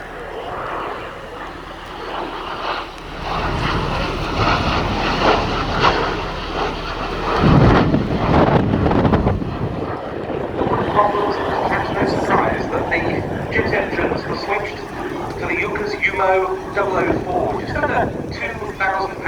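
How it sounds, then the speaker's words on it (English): A Messerschmitt Me 262 jet fighter, on its first flight in the UK, makes a flying pass, its roar swelling loud and broad with wind buffeting the microphone, then settling into a sustained drone as it moves past. "for its first pass, the remarkable shape of the Me-262"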